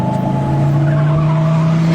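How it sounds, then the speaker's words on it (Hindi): A car engine hums steadily at close range as the vehicle pulls up and stops on a deserted forest road, with no talking. "गाड़ी रेशमा के पास रुकती है।"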